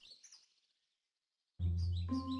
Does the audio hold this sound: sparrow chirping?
yes